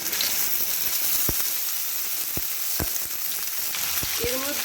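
Boiled amla (Indian gooseberry) sizzles in hot oil with a pinch of asafoetida, a constant close frying hiss broken by a few sharp pops and spatters.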